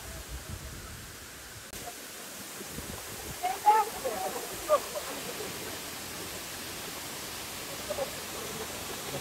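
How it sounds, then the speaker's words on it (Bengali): The roar of Ham Ham waterfall in Moulvibazar is a steady, even rush of falling water heard from some distance, with a few faint voices rising briefly over it. "পানির শব্দ শুনবানি ঝর্ণার এটা হাম হাম তো পানির শব্দ"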